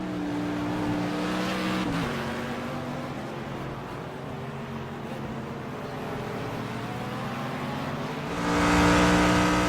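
Race cars, including a Mercedes, in a racing video game on a track: a steady engine drone with shifting pitch, a brief gear change early on and a louder surge of revving near the end.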